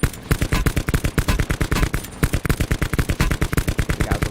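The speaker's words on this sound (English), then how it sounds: "So I'm taking shots at everyone right now." Rapid automatic gunfire from a KN rifle in Call of Duty Black Ops 4 Blackout, loud close shots in fast steady bursts with a brief break in the middle.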